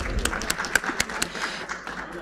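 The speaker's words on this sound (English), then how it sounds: "Give a big round of applause for them" Sparse, uneven handclaps ring out from an audience at a cardiology medical conference, a few sharp individual claps scattered over a couple of seconds rather than a full ovation.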